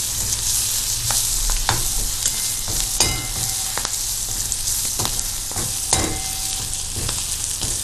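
Onions frying in a pan for a Nimar-style gatte ki sabzi, a loud continuous sizzle with crackling pops and occasional scraping stirs of a utensil, close up.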